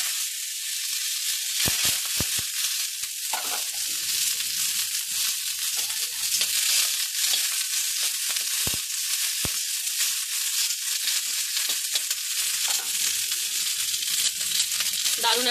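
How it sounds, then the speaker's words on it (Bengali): Neem leaves fry in hot mustard oil in a kadai, giving a loud, continuous close-up sizzle and hiss. The sizzling runs unbroken for about fifteen seconds, with occasional soft stirring scrapes. "এই তেলের মধ্যে আমি নিম পাতাগুলো ভেজে নেব"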